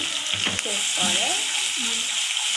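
Mushroom curry with cumin seeds and oil frying in a pan gives off a steady bright sizzle while a spoon scrapes and stirs it, close by, with a brief knock near the start.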